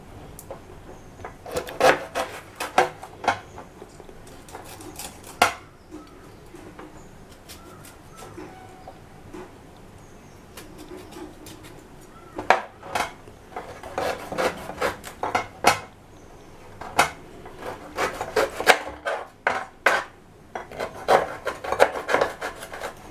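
A sharp knife cuts through tender jackfruit, producing irregular scraping, rasping strokes in short clusters, fairly close and moderately quiet, with pauses between bursts and faint birds cooing in the background.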